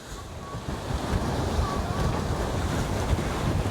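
Steady wind roar and surf wash around a sailboat hove-to in about 20 knots of apparent wind, with broad continuous noise and microphone buffeting throughout and no talk.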